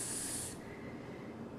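A spray bottle gives a short burst of fine hissing spray, close and fairly loud, then fades into a low steady room background.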